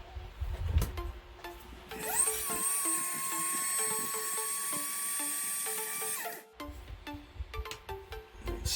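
A small high-pitched rotary drill whines steadily for about four seconds while drilling out parts on an Enterprise D model build, between soft clicks and handling of plastic pieces, close and without talking.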